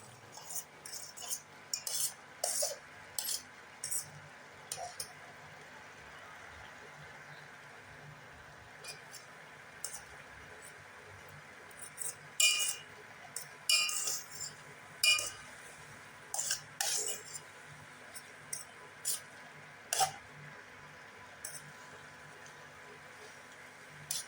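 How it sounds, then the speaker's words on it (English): A spoon clinks and scrapes against a pot or bowl while Maggi masala noodles are stirred, giving irregular bursts of light metallic taps that come in clusters over a quiet kitchen background. "Ensure that the masala gets mixed properly with the noodles. Stir it well."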